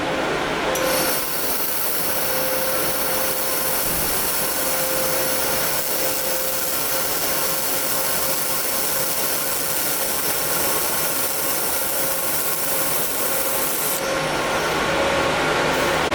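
Laser welder running a single-wire weld on carbon steel, heard as a loud, continuous, even hiss with a steady hum, starting and stopping sharply at either end, with no talk.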